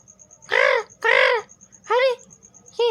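Four loud cartoon crow caws ring out in a cheerful Hindi bedtime story, two long calls followed by two shorter ones, spaced evenly and standing out over a faint background bed.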